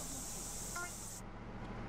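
Spray can hissing as graffiti is painted in the video game GTA San Andreas, a steady airy hiss that cuts off partway through over constant game background noise.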